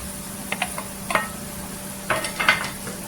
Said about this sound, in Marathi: छान अशी तेलावर परतून घ्यायची।